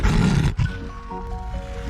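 A lion gives a short, loud, rough roar that breaks off after about half a second, followed by a quieter tonal, whinny-like sound.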